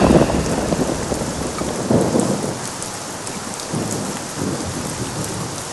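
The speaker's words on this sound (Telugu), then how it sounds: "ఏంట్రా వర్షంలో కూర్చున్నావు?" A rain and thunderstorm, with dense, steady rainfall hissing throughout and low rolls of thunder swelling and fading, with no voices.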